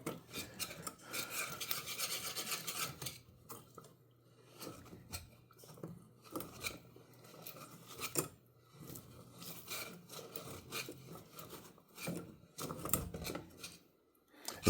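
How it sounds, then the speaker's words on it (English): Caramel being whisked in a hot pan on the stove, with rapid scraping and rasping strokes of the whisk against the metal, close and continuous with short pauses and no talking. "You got to have a good quality whisk to do this."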